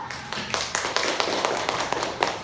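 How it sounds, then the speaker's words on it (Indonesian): A small class of students claps during a teaching session, a sparse group applause with distinct individual claps standing out in an uneven rhythm, fairly close. "Oke, tepuk tangan dulu"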